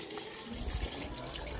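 Second-pressing coconut milk is poured into a cooking pot of bamboo shoots, a faint steady liquid trickle and splash lasting under two seconds.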